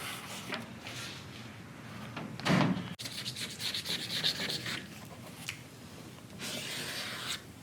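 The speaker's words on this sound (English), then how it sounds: "I'm shaving the window." A window on a Ford car being shaved, heard as close, repeated scraping and rubbing strokes with a heavier scrape midway and continuous abrasive texture, with no talking.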